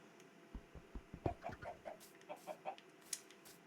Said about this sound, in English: We've got 2 baby chickens floating around.